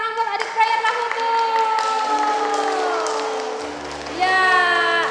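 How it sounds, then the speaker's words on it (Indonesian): Children and adults clapping at a Sunday school service in a church, quick rhythmic claps mixed with voices and sung or called-out tones. "Tepuk tangan buat adik prayer Lahutu."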